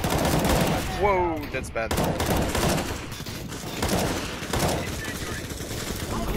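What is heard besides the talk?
sniper gunfire in a video game shooter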